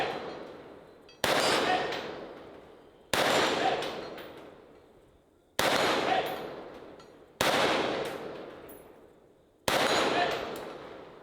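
Six sharp gunshots ring out at a shooting competition, each hitting a steel target with a clang and then decaying, spaced about two seconds apart with nothing in between.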